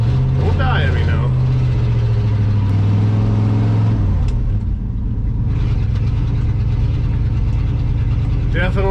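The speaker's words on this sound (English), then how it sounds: "Definitely sounds like a grain truck." An old truck's heavy engine, sounding like a grain truck, rumbles and idles loudly up close, with a low droning tone that shifts partway through and faint mechanical rattles.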